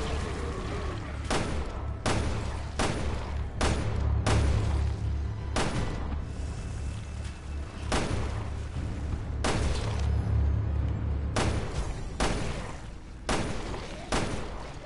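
Repeated explosions and bursts of gunfire in the Resident Evil Revelations 2 survival horror video game, sharp loud blasts at irregular intervals over a constant rumbling game background, with no talk.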